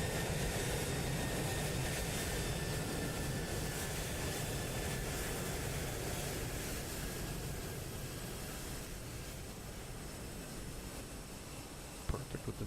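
A Transavia airliner in Microsoft Flight Simulator 2020 departs with a broad, steady jet engine roar that slowly fades a little, heard on its own with a few faint clicks at the end.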